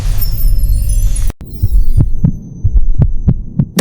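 A heartbeat sound effect thumps in a steady rhythm of about seven low beats after a brief humming, shimmering passage and a short silence, loud and close with no talking.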